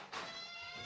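A cat meows close by in a quiet indoor room, one drawn-out meow lasting most of the moment.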